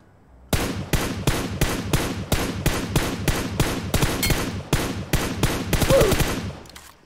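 Rapid automatic gunfire from a battle in an online shooter video game, a long run of close, loud bursts in a steady rhythm that grows denser toward the end.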